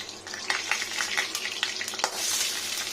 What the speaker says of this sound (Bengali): আর এখানে দিয়ে নেবো বড়িটা, একটু ভেঙে নিলাম